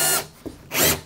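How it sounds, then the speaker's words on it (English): A power drill bores a hole through pallet wood on a workbench, two loud bursts of whirring and grinding separated by a brief pause, up close and with no talking. "So we drilled in a hole."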